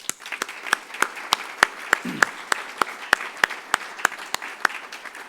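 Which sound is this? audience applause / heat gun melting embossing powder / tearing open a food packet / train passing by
audience applause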